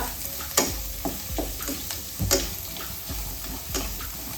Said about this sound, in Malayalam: ഇതെല്ലാം ഒന്ന് ചെറുതായിട്ടൊന്ന് വഴന്ന് കിട്ടട്ടെ